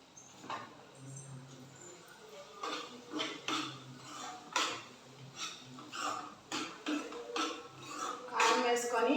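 A spoon scrapes and clinks against a pan while chili powder is stirred into an egg curry, a close, irregular run of metallic taps and scrapes growing busier toward the end, with a voice speaking at times.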